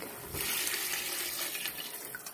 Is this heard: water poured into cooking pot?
yes